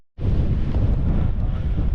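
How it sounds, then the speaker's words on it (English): Steady, loud wind buffeting the microphone on top of Loft Hill beside a Snugpak Scorpion 2 tent, a continuous low roar with no other sounds, starting abruptly after a brief silence. "Bit windy for John's tent here"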